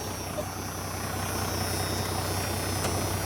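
A 1992 Dodge Ram D250 with a dealer-installed Banks PowerPack idles after a cold start, a steady, low rumbling drone with faint ticking, heard up close and unbroken by voices.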